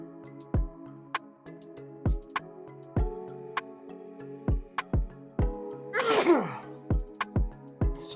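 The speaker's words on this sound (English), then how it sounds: "that's me sneezing" A single loud sneeze bursts out partway through, close and sharp, over a home studio beat of repeated thumping kicks and sustained synth chords.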